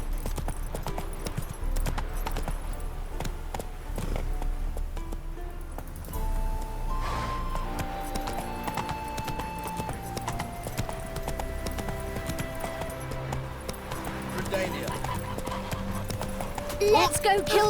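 A horse gallops in The Witcher 3 video game, with steady rhythmic clip-clop hoofbeats and an occasional whinny over a bed of game music and ambience, while a person talks at times.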